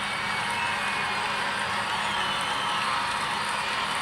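Dense, steady crowd noise fills a women's college gymnastics arena at a Georgia vs Missouri meet after a beam routine, the fans sustaining a loud, continuous roar and chant for a perfect 10 with no break.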